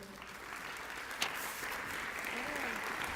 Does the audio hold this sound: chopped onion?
no